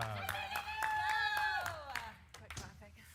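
Quick rhythmic hand clapping by a few people, a run of sharp claps close by that thins out toward the end, with voices and a held tone underneath.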